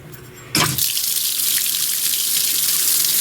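Cold water gushes steadily from a utility sink faucet into the basin, starting abruptly after a brief quiet moment and continuing as a loud, close, even hiss with no talking.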